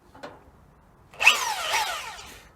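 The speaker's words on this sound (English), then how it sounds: "SDS drill." A short tap, then an SDS drill starts up with a rising whine and grinding buzz, loud and close, running for over a second.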